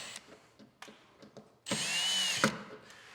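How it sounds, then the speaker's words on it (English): A power drill whirs in one sustained burst of a second or so, close by, tightening latch bolts on a rooftop tent, after a few scattered clicks and handling knocks. "I'll come back with my drill and I'll just go ahead and tighten these up."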